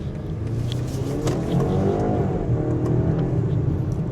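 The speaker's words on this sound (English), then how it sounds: "You can hear a little bit of that turbo blow off valve that comes through into the cabin" Cabin view of a 2025 BMW X3 30 xDrive driven in sport mode, its turbo engine droning steadily as revs climb in a rising sweep midway, with a faint blow-off rush beneath the engine note.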